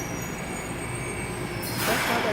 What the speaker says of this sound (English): The train bound for Busan is approaching.